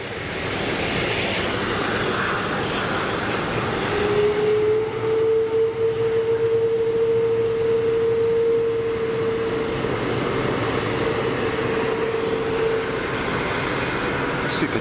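A KLM airliner lines up on runway 04 at Geneva Airport, its jet engines giving a continuous mid-level rumble, with a sustained whining tone rising in for several seconds midway before fading.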